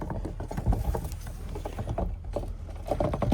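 Fuel sloshing and spilling out of a removed fuel pump from a 2006-2009 VW Rabbit 2.5L, close-up irregular splashing and patter mixed with light metallic handling clatter, without talk.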